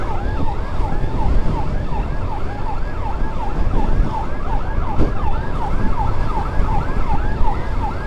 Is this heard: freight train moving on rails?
no